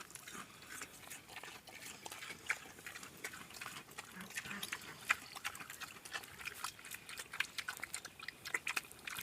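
Pigs eating a watery mash of ground barley and wheat, with close, steady smacking, chewing and slurping sounds and occasional soft grunts.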